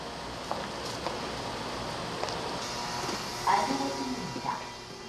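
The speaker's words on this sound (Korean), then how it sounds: "승객 수송을 마친 열차가 종착역에 들어온다." Subway train pulling into a terminal station after its passenger run, a steady low rumbling hum with faint squeals and clanks as it slows, under a quiet narrating voice.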